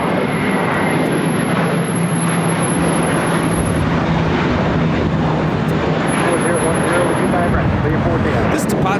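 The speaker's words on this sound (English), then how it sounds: "This Tapacha is JetBlue Airways 188 taking off to Boston on an A321" A JetBlue Airbus A321 takes off from LAX for Boston, a loud, close, continuous jet roar with a high thin whine above it, as people talk over the noise.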